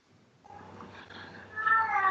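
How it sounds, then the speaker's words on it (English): A cat named as Charlie's meows, rising into a louder, drawn-out cry near the end, close and clear over faint background hum, without talk. "Oh, Charlie's cat's back."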